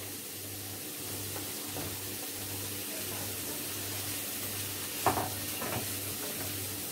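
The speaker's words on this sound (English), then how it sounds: "Now we are going to add some chopped carrot." Chopped carrot going into a pan of sizzling capsicum, a low steady frying hiss with a couple of stirring scrapes and clatters near the end.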